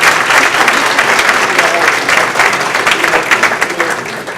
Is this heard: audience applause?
yes